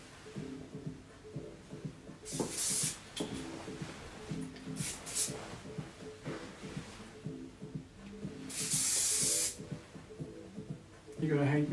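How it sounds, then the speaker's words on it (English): Hairspray hisses from an aerosol can onto freshly cut layered hair in a salon, in three short close bursts with a longer spray near the end, while people talk in between. "Just hairspray a little bit."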